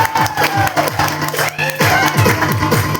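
A crowd at a lively academy event in Nashik cheers and shouts continuously for three seconds, with loud overlapping voices and whoops that may include clapping.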